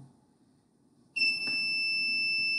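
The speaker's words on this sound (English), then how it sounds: "let's see if the active buzzer is active again or not" Active buzzer on a Raspberry Pi set up as a Codesys PLC, triggered by a line finder sensor, switches on abruptly and holds a loud, steady electronic tone with no talking.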